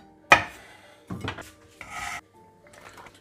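A knife halves garlic cloves on a cutting board for a chickpea meze, giving three short, close scraping cuts with brief pauses between them and no talk.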